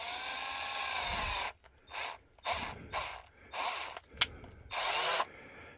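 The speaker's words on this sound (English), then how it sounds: "We're going to use the drill to drill these holes rather than use that tool they give us." A power drill bores holes into the plastic of a Canon 240/241 ink cartridge, several short whirring bursts of varying length separated by brief pauses, close and fairly loud, with no talking.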